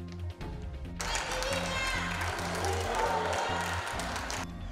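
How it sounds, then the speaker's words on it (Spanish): People on residential balconies in Alicante clap during the Santa Faz celebration. The applause swells in after a brief pause and holds steady for several seconds before cutting off, with a narrator's voice talking over it. "aplausos en los balcones de los alicantinos"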